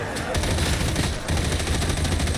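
Rapid automatic gunfire in Warhammer 40K Darktide, a dense continuous stream of shots with one brief gap, loud and close amid a horde fight.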